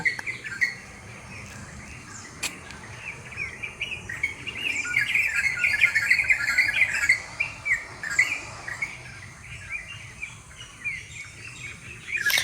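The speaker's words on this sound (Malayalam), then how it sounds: "രാവിലെ മരത്തിലൊക്കെ ഇഷ്ടം മാതിരി കിളികളൊക്കെ ഉണ്ട് അപ്പം ഒക്കെ ഒച്ചയാണ് കേട്ടോ" Many birds chirp and call at once in morning trees around a Kerala garden, a busy chorus of tweets and trills at moderate distance, steady throughout with a soft outdoor background.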